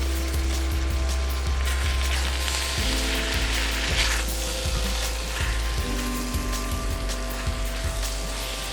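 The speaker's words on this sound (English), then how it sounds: "I'm gonna crack 2 eggs. And just scramble it in a pan." Two eggs scramble in a frying pan for Indonesian mie goreng: a steady, loud sizzle runs throughout while a spatula taps and scrapes the pan in quick, regular ticks close by.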